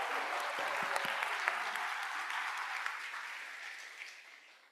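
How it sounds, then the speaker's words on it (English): An audience applauds the senior leadership team at a school kick-off event, a dense wash of clapping that starts full and gradually thins and fades toward the end. "please join me in a round of applause for them"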